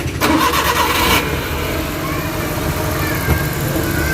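A Suzuki Big Eye F6A fuel-injected engine cranks briefly, then catches and settles into a steady idle, close and fairly loud with no talking.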